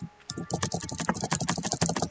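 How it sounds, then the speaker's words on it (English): Rapid typing on a computer keyboard, dense irregular clacking of keys close up and fairly loud, continuous for about two seconds after a brief quiet start, with no talking. "Well, look at the keys, guys. It's the keyboard."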